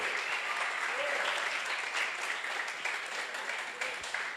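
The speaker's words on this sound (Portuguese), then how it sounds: "Um forte aplauso, Senhor" Audience applause at a Portuguese-language church service, a dense steady wash of many hands clapping throughout, with a faint voice briefly rising under it.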